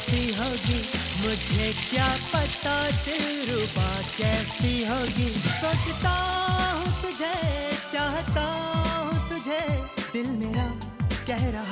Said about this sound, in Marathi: एक एक व्हेजिटेबल्स फ्राय करायला घेतलं